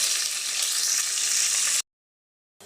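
Green chillies frying in hot oil for a prawn biryani give a steady, close, loud sizzle with no talk, which cuts off abruptly into silence near the end.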